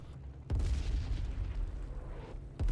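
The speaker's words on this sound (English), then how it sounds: "Then it will impact closer than the left-hand rocket." Rocket impacts in the IL-2 flight sim game: a deep, loud boom hits after a brief quiet and rumbles on for about two seconds, then a second sharp blast strikes at the end.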